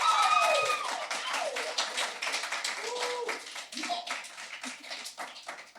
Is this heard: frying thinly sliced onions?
no